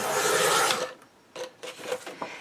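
Paper is cut for a craft folio, a loud rasping stroke of the cutter followed by a few shorter, softer scraping sounds, with no speech.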